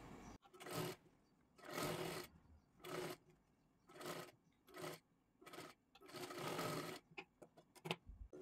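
A sewing machine runs in repeated bursts while stitching a second seam line on a princess-cut blouse, with about eight stop-start runs of varying length and short pauses between them, fairly close but not loud.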